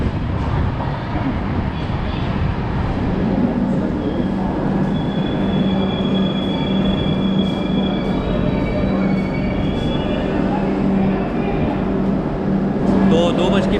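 A Ranthambhore Express train pulling into Sawai Madhopur Junction, its steady rumble and rolling noise filling the clip with faint high wheel squeals above, while people talk in the background.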